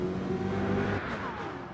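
A Nissan Silvia swapped with an LS7 V8 races in Gran Turismo 7, its engine droning steadily and close, then pitch shifting as the throttle changes partway through.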